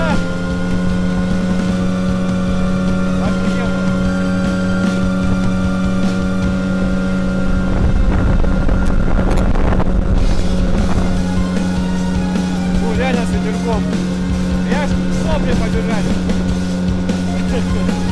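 Hangkai 9.8 outboard motor driving a Riviera 3600 inflatable boat on open water, a loud continuous droning hum with a steady tone throughout, splashing and wind noise surging in the middle.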